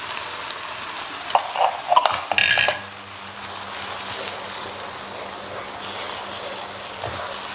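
Tomato paste frying in a pot for green bean rice: a steady soft sizzle with a brief burst of stirring and pot clatter early on, then continuous low frying hiss.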